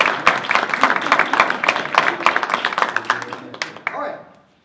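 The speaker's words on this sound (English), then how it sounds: "Everyone clap now, come on." Audience clapping at a town council meeting, a short burst of distinct, fairly close handclaps from a modest group that thins out and stops after about four seconds.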